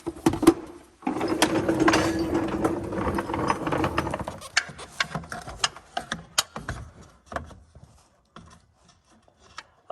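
Ratchet and hand tools working on bolts underneath a 2016 Ford F-150 with a 2.7L engine, near the steering shaft during oil pan removal; dense metallic clicking and rattling for several seconds, then sparser scattered clicks and knocks, no talking.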